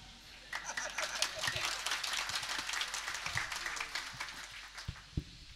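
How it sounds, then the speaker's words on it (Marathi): A kirtan audience in Nanded breaks into a burst of hand clapping: many hands patter in quick, uneven rhythm for several seconds, fairly close and lively, then thin out near the end. "पुन्हा टाळी वाजवा बरं"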